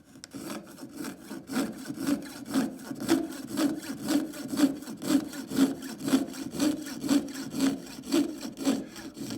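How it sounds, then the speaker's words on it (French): A hand saw cuts a cellulose acetate sheet held against a bench peg, about twenty regular rasping strokes in a steady rhythm, close and alone without speech. "Le sciage se déroule au moment où je descends ma lame de scie."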